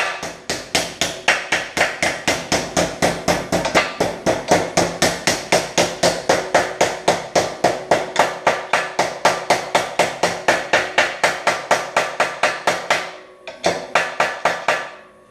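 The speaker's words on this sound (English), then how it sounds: "I'm going to bend over the flange." Rapid, even hammer blows folding a sheet metal door bottom flange, dozens of sharp metallic strikes in a steady rhythm, close and loud, with a short pause near the end before a few final hits.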